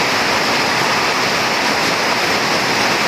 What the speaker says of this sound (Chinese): 现在这个屋顶上的这个雨水哗啦啦的从上面流下来